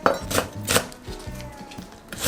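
A knife chops green onion, the white part, on a cutting board, with several firm rhythmic thuds at close range and a faint ringing tone between strokes.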